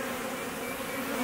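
A dense swarm of honey bees hums steadily around an overflowing hive, a continuous close drone holding even throughout with no talking.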